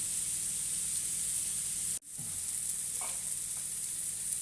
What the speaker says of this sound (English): Now you just leave that for another 2 minutes so that those mushrooms are really cooked through and brown.